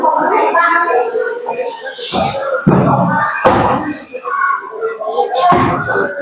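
Several sharp knocks and thuds of doors being shut in Minecraft break through steady, excited talking, spaced irregularly over a few seconds.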